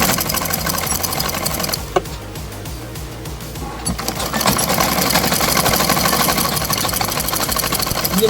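A sewing machine stitches a kurta sleeve with a steady, fast mechanical whir and clatter. The motor eases off briefly midway, then runs on at full speed.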